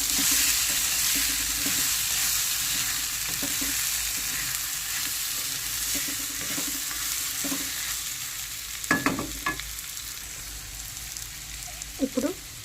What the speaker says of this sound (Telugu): ఇప్పుడు మనం పచ్చి బఠానీలు వేసుకుందాం. ఒకసారి కలుపుకుందాం.